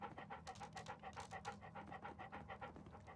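Toby the dog pants hard and fast in Sherlock Holmes: Crimes & Punishments, a close, even run of quick breathy huffs lasting a few seconds, heard alone.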